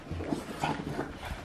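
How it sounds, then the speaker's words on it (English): Dogs making short, soft barks and whimpering yelps in a brief, fairly faint burst near a house front door. "Dogs!"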